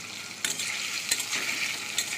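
Cashews frying in hot oil in a pan, a continuous close sizzle broken by a few sharp scrapes and stirs of a spatula.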